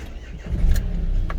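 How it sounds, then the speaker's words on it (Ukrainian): A small car engine cranks and catches within about a second. It sounds close and low, then settles into a steady idle. "Все, бачите, як заводиться машинка."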